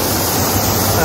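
Stream water rushes at its spring source on the Sardu, a loud, steady roar of surging water close by with no break.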